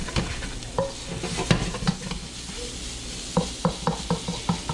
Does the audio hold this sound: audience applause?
no